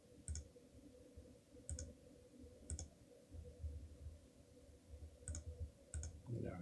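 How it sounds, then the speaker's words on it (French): A computer mouse clicks five times, sharp and close, at uneven intervals while closing a forex trade on a trading platform, over a low steady hum with no talk. "je vais cliquer sur le bouton clôturer"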